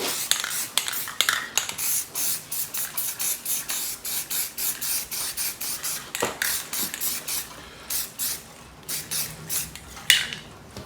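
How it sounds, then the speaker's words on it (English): Rust-Oleum primer sprays from an aerosol can onto sheet metal in a quick run of short hissing bursts, close and fairly loud, with a few longer passes near the end. "This is just Rust-Oleum primer, nothing fancy."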